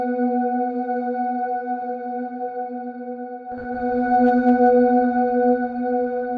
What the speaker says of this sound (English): you can hear how that reverb changes